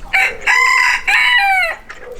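A rooster crows loudly and close by, one long drawn-out cock-a-doodle-doo in several rising and falling parts, then a short trailing call.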